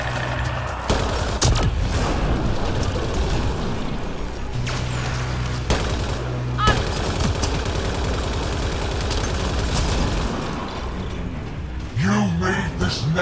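Gunfire in the video game Mass Effect Andromeda crackles in dense, continuous bursts with mechanical clatter for most of the stretch, then eases near the end as a voice briefly speaks.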